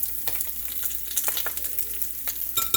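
Biscuit dough being stirred after evaporated whole milk goes in, a close, steady wet scraping and sloshing with irregular clicks of the spoon against the bowl, heard alone.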